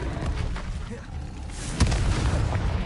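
A Confringo blasting spell from Hogwarts Legacy lets out one dull explosive boom partway through, over a low, continuous rumbling backdrop.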